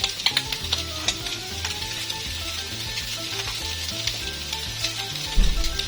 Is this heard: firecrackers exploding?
no